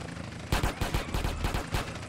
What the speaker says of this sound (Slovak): do nohy ho strieľam